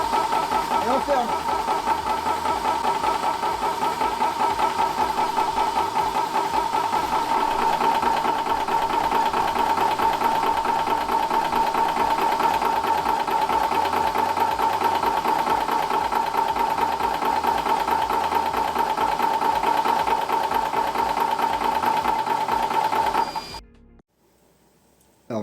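A Vevor 350 W HPA PCP high-pressure air compressor runs steadily with a loud, continuous mechanical hum and rhythmic pumping pulses, then shuts off abruptly near the end, leaving near silence.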